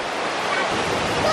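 Waterfall along a hiking trail near Jones Gap, a loud, steady rushing roar of falling water filling the whole moment, close by and unbroken.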